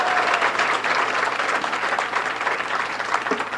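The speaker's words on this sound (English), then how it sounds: "Let's hold down the applause." Steady, dense crowd applause filling the whole stretch, loud and continuous with no voices standing out.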